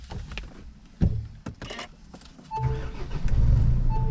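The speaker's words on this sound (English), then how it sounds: "Start the car," A Nissan NP300 starts up, with a few clicks and knocks before the engine catches and settles into a loud steady idle rumble with a faint high whine over it.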